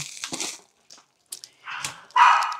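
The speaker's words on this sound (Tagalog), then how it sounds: "Kasi may tao kasi sa labas kaya sila nagtatatahol-tahol." Dogs, including one named Bobby, bark at someone outside in a few sharp, close barks and yips with short pauses between them, ending in a louder bark.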